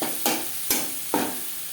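Six medium chopped onions fry with snake gourd in a pan, a steady hiss of oil broken by three evenly spaced stirring scrapes.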